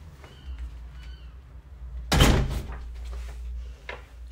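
A house front door opening into a small porch in a two-bedroom terraced home, heard as one loud, close wooden thunk or slam, followed by quieter room sounds and faint movement.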